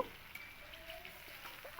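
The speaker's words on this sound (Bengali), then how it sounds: "ঢাকনা খুলে এবার আবারও আমি একটু নাড়াচাড়া দিয়ে নেব" Pointed gourd (potol) frying in a pan is stirred, a soft steady sizzle with faint scraping strokes, quiet and close, no voices.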